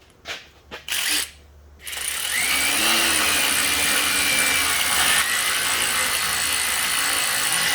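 A ratchet wrench with a 10 mm socket gives a few sharp, close clicks during transmission fluid work on a Toyota, then a steady, loud mechanical whir takes over.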